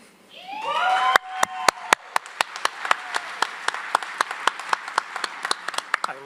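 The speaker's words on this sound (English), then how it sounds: "I love these cheering sessions." Graduation ceremony audience clapping and cheering, a steady patter of applause with sharp individual claps and voices rising briefly at the start, then fading into scattered claps.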